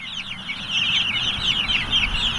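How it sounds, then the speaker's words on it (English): Cornish Cross chickens out on grass pasture cluck and chatter continuously, a close flock of busy, overlapping clucks with no other voices. "The chickens are moved out the pasture."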